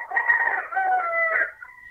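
A chicken or rooster crows once, a drawn-out, clear call fairly close by that tails off at the end, with no voices over it.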